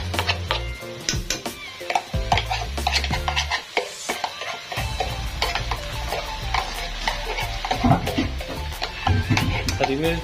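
Green chillies and tomatoes are stirred in a cooking pot, a busy sizzle with many quick scraping and tapping strokes from the spoon and a brief lull partway through, under faint background talk.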